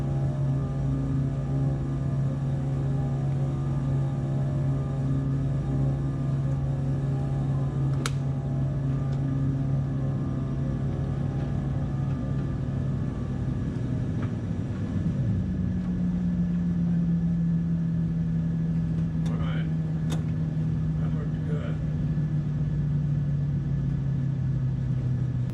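Twin-engine Beechcraft Baron 58 during takeoff training with simulated engine failure: a steady, loud propeller-engine drone whose pitch sags sharply as power is pulled back, leaving a lower, changed hum with a few faint clicks.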